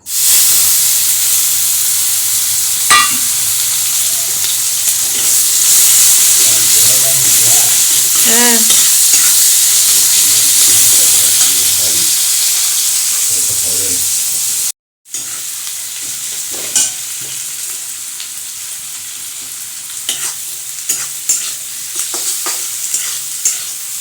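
Taro stolons fry loudly in a pan as they are stirred, giving a dense, continuous sizzle and hiss with scattered scraping clicks. The sound breaks off for a moment partway through, then resumes.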